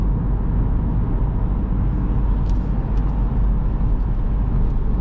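Steady, low broadband wind and road rumble inside a 2020 Ford Kuga Titanium with a 1.5 diesel, cruising at 90 km/h around 1500 rpm; the hush stays constant, with a few faint ticks and no talking.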